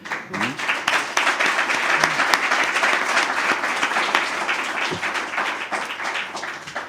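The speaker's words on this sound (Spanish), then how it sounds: "Creo que el profesor Areñilla se merece de nuevo un aplauso." Listeners at a conference on social services and technology give a professor a sustained round of applause after his lecture, many hands clapping close and dense before it thins toward the end.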